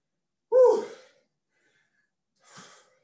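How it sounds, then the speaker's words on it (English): Two sharp, breathy exhalations after a HIIT exercise interval, the first loud and the second softer about two seconds later, with silence between them. "Control that breathing."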